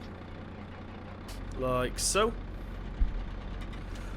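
A John Deere 6230R tractor in Farming Simulator 17 starts up: the engine cranks, revs up with a rising whine, then settles into a steady low idle. Someone says a couple of words over it.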